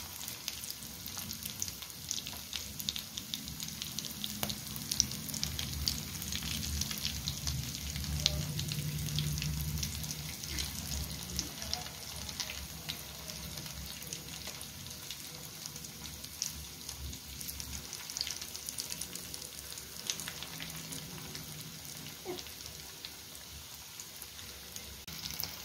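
Chicken cutlets frying in hot oil after being turned to the other side, a steady dense sizzle with scattered crackles and pops, close and continuous throughout with no talking.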